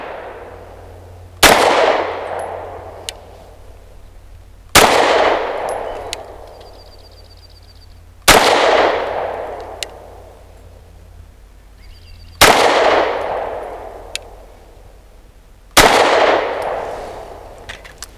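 Five pistol shots from a BUL Armory EDC handgun fired at 7 yards on a range, each a loud sharp crack with a ringing decay, spaced about three seconds apart in a slow steady cadence.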